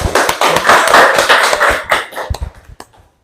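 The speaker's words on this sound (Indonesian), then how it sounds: "Diberikan aplaus buat temannya tadi berdua." A classroom of high school students applauds two classmates, a burst of dense clapping that swells, then thins into scattered claps before stopping.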